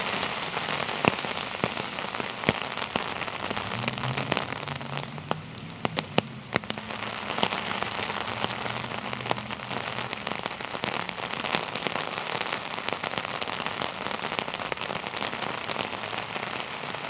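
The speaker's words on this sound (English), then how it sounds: "Ooh, the rain is coming down." Heavy rainstorm pours onto a city street in Norwich, Connecticut in 2024, a loud, dense roar of rain with sharp drips and splats popping out close by, and a low passing rumble partway through.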